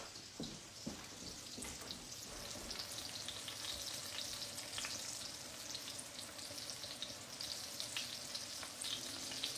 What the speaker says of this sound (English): The butter gotta melt.